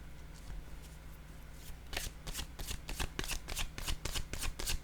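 Tarot-style cards being handled and laid down, a faint rustle at first, then a run of sharp, close riffling shuffles in quick bursts.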